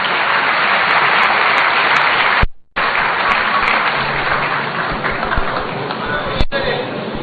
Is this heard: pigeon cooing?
no